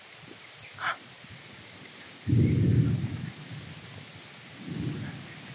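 Rain patters steadily outdoors while two deep rumbles of thunder roll through, the first loud and sustained, the second softer, with a brief high bird chirp near the start.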